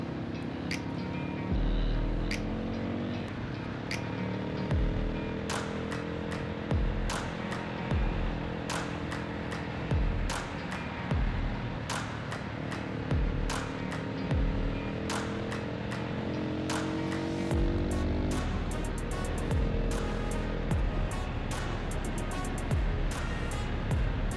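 Road traffic along a canal in Pakistan, heard during a group motorcycle ride that includes a Yamaha 700. A continuous engine and wind drone carries on throughout, with passing vehicles and scattered sharp clicks and knocks.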